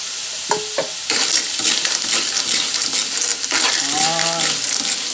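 Clam shells tumble and clatter into a cooking pot of Pangasinan tulya clam soup, a few sharp clinks followed by a steady hissing simmer and stirring rattle, close and fairly loud.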